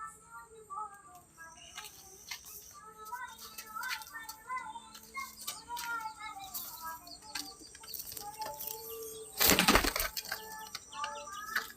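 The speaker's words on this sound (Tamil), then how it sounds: "இப்போ தாங்க ஒரு புறா வந்து லாஃப்ட்டில் இறங்கிது." Pigeons flap their wings on a home clothesline at night, with soft cooing and chirps throughout and a sudden loud burst of close wingbeats near the end.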